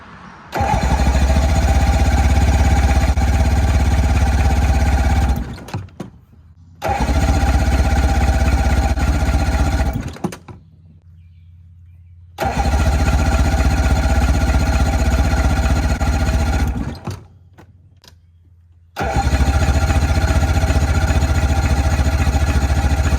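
The outboard engine of a 1967 StarCraft boat with Selectric shift cranks and roars into loud, close running three times. Each run lasts several seconds and cuts out to brief quiet gaps before the next start, with no talk.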